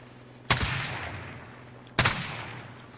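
Two sharp, loud gunshots about a second and a half apart in the video game Call of Duty: Modern Warfare, each one cracking and then trailing off in a short echoing decay over a faint steady hum.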